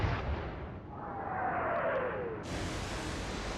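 Main gun fire from a warship in the naval strategy game Atlantic Fleet, heard as a steady broad roar with a long descending whistle of shells in flight, then a fresh burst of noise near the end; no talking.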